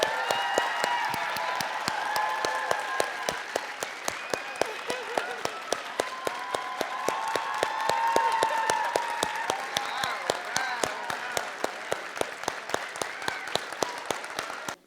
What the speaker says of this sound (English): give her a warm and resounding applause